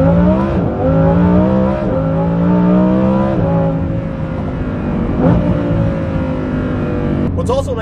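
A Lamborghini Huracan Performante with an Inconel exhaust revs hard through several rising, falling sweeps, loud and near, with a throaty exhaust roar throughout.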